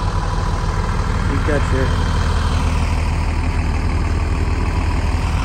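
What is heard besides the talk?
motorhome engine idling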